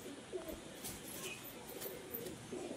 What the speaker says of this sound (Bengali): এই মাদি কবুতরটা, এইটা নর কবুতর